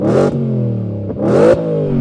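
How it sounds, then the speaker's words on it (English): Supercharged V8 in a Ford F-150 Raptor R revved twice, each sharp throttle blip climbing into a loud snarl before dropping back to a heavy, rumbling idle, close by. "So I'm going to rev up this V8."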